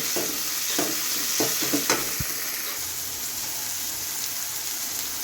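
Tomato pieces tossed into a pan of frying onions for a brinjal, drumstick and tomato curry, giving a steady close sizzle with a few spatula scrapes and clinks early on, then an even hiss.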